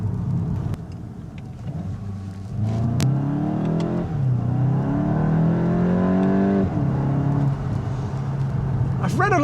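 A 2021 VW Golf GTI Mk8 engine revs and accelerates steadily, rising in pitch through the gears, a moderate rumble heard from inside the car with a voice talking over it.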